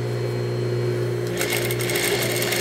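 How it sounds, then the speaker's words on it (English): Sewing machine stitching a dining chair slipcover runs as a steady, continuous motor whir with a constant hum from start to finish, growing brighter and busier in its second half, close and alone with no voices. "Once I pin this out, I'll sew this, and I'll sew this inside portion"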